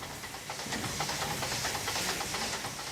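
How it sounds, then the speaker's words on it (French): A steam crane works at a railway depot on a turntable job, giving off a steady, fairly loud hiss of steam with faint pulsing mechanical chuffs throughout and no voices. "La grue à vapeur du dépôt, mise en œuvre pour une intervention sur le pont tournant."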